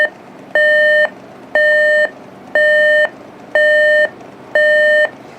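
A clock radio alarm beeping in a steady repeating pattern, five evenly spaced tonal bursts with short gaps, growing louder, fairly loud and close, no voices.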